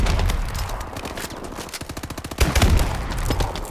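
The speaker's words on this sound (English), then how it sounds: "There it is, the Screamin' rate of fire." NA-45 Screamin' variant firing in Call of Duty Advanced Warfare, a rapid stream of close, evenly spaced shots that speeds into a fast burst partway through.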